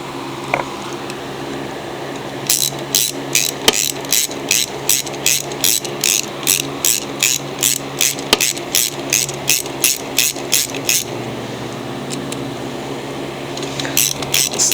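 A hand ratchet snugs nuts onto a Briggs engine during a primer-to-Ready-Start conversion, making a loud, fast, regular run of sharp clicks that starts after a short pause, stops briefly near the end, then picks up again.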